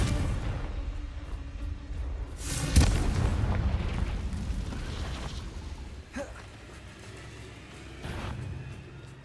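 Spell explosions from Bombarda and Confringo cast in Hogwarts Legacy, a rumbling boom with a sharp burst near the three-second mark and smaller pops later, over a steady low game ambience.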